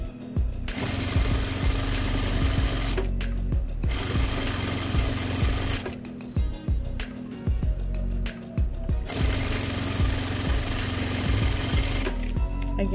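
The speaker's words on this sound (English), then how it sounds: "I'll begin the stitching" A sewing machine stitches minky fabric into a snood with a steady, rapid mechanical whir, pausing briefly several times before starting again, close and continuous with no voices.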